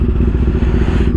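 Motorcycle engine running on a Sofia street, a steady close low rumble with a rough, clattering idle and no voices, holding level throughout.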